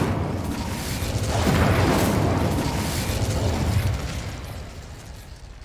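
Incendio fire spell cast in Hogwarts Legacy, a broad whooshing burst of flame that swells over a second or two, lingers as a rumbling roar and then slowly fades.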